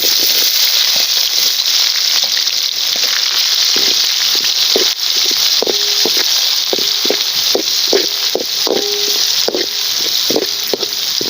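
Onion dropped into hot oil already holding star anise, bay leaf, cumin and fennel for quail pepper fry, a dense, steady hiss of frying with scattered sharp crackles and pops, close up, with no talking.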